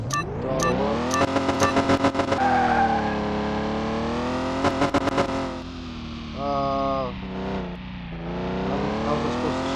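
A car launches hard off the start line in Car Mechanic Simulator 2021, engine revving up through rising pitch sweeps with sharp shift-like cuts and a brief tire squeal, loud and close.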